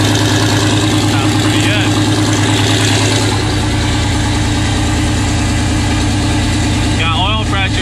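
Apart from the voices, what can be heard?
Corvette engine running and idling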